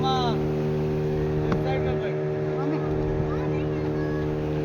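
A boat crossing open sea off Goa, a steady droning engine hum with a constant low tone, with people talking and calling out over it.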